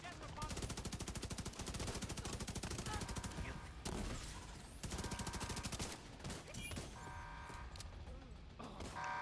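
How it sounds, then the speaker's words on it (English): A boss's Gatling gun spins up and fires in a video game, giving rapid sustained bursts of gunfire in two long stretches with brief gaps, loud and close amid other game effects. "When we hear that sound, we know that the Gatling gun is going to start spinning."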